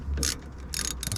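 Two short bursts of rapid ratchet clicking from a 1/2-inch drive ratchet loosening bolts on an outdoor wood boiler pump, close and fairly quiet, with a brief pause between.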